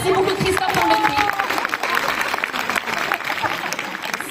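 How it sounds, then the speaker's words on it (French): An audience at a Paris event applauds Christophe, steady clapping mixed with crowd murmur and voices talking over it throughout. "On applaudit Christophe."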